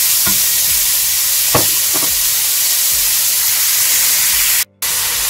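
Bacon and onions sizzle in a pot as the base for a pea stew, giving a loud, steady frying hiss. A few sharp scraping stirs sound over it, and it cuts out briefly near the end.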